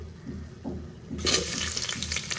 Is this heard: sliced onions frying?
yes